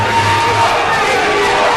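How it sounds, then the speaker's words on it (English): Fight crowd at a Kalsamrit Gym bout roaring and cheering for the hometown fighter, a steady dense wash of voices with yells rising over it, close and loud throughout. "You can hear the crowd getting into it."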